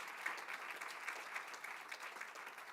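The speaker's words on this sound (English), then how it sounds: "let's give them a massive cheer for helping tonight be a huge success" An awards night audience applauding sponsors, a steady wash of clapping from a large crowd heard at a distance, with no cheering voices standing out.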